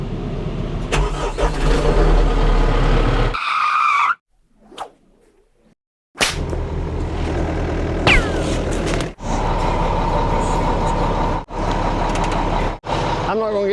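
An old truck engine falls quiet for a moment, then cranks and catches with a loud burst and settles into a steady, rough running idle with a few brief dips.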